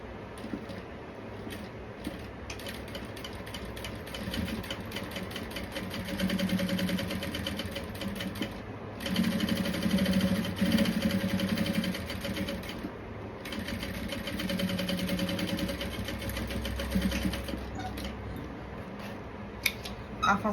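A sewing machine stitches with a piping presser foot on the wrong side of a shoulder seam, running in a few continuous bursts with a whirring motor and rapid needle rhythm, close and moderately loud.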